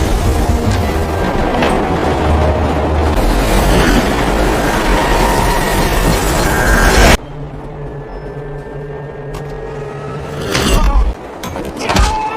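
Moving train in a film, a dense loud rumble and rattle of wheels and cars that cuts abruptly to a quieter interior hum with scattered metallic clanks and knocks.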